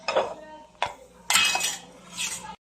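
Butter-roasted vermicelli being moved from a pan onto a plate for semiya payasam, with a few sharp clinks and scrapes of a metal utensil against cookware spaced across a couple of seconds, close and fairly clear.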